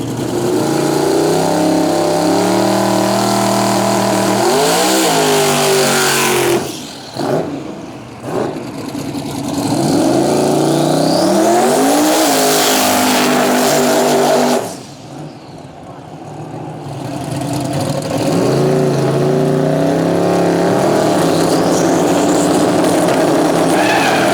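A twin-turbo LS-powered box-body drag race car with no front end roars down the strip at a drag racing event, loud sustained engine wail with rising pitch sweeps, a brief lift around the middle, then another hard pull.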